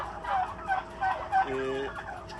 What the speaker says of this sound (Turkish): hindilerimiz elde kalmıştır